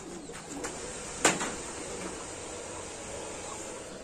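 Pigeons around a loft, heard as a faint bird call and a brief flutter under steady background hiss, with no talking.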